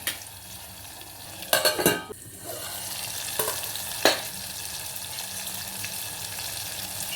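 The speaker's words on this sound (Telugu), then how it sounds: "టమాటా ముక్కలు ఒకసారి మంచిగా కలుపుకోవాలి." Tomato pieces stirred in a pan for Telangana-style chamagadda pulusu, a soft steady simmering sizzle with a few sharp utensil scrapes and clacks near the start and middle; no talking.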